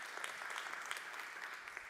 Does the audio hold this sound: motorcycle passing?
no